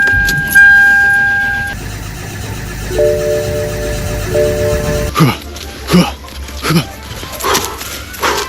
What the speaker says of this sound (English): Got a cold start.